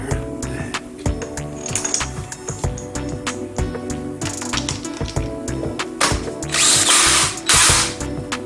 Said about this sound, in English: We tighten this to 100 foot-pounds, then reverse thread one complete turn, then tighten back to 140 foot-pounds.